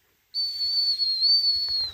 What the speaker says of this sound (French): rappel au sifflet